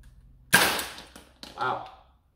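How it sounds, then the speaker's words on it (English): A single shot from an X-Shot Dino Attack Extinct toy blaster, a sharp close pop with a brief rattle, followed by a second softer clatter a moment later. "Actually, shoots pretty nice for a single shot."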